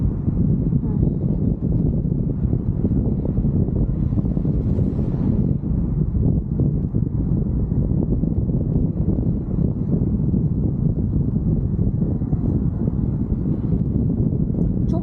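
Wind roaring across the microphone during a tandem paragliding flight over Bozdağ near Ödemiş, Turkey: a constant heavy low rumble and buffeting that never lets up.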